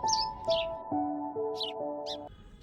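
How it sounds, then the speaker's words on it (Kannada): Small bird, a sparrow, chirping while pecking at rice grains: several short bright chirps at the start, middle and end, close and clear over steady sustained tones. "ಗುಬ್ಬಚ್ಚಿ ಚಿಲಿಪಿಲಿ ಎಂದು ಧ್ವನಿ ಮಾಡುತ್ತಾ ಕಾಳುಗಳನ್ನು ತಿನ್ನತೊಡಗಿತು"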